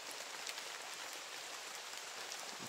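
Rain falling steadily in a mountain setting, a dense, even hiss of drops with occasional sharper taps, continuous and alone without voices.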